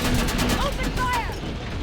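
Gunfire crackles in Terminator Resistance during a fight with an Infiltrator, a dense burst of shots and booms under shouting voices.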